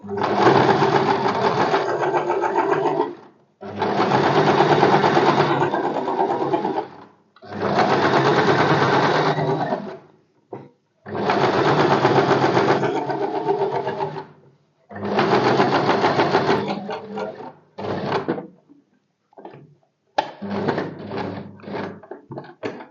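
A sewing machine stitches a blouse back pattern in several loud, close bursts of steady whirring, each lasting a few seconds and separated by short pauses, ending in shorter stop-start runs.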